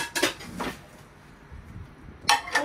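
A plate clinks against the inside of a new microwave oven, with two sharp ceramic knocks at the start and two more near the end, separated by a quiet pause.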